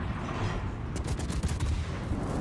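Gunshots fired at the player during a naval combat video game match, a brief cluster of sharp cracks over a constant loud engine and sea rumble.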